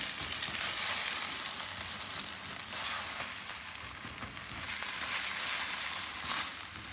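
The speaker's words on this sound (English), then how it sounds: "Now I'm just going to take the egg and just chop it up." An egg is chopped up on a hot griddle for chicken fried rice. A steady, moderate sizzle fills the whole stretch, with faint scraping under it and no talk.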